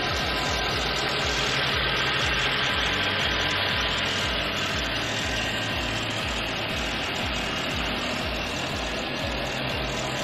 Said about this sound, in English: let's check out the engine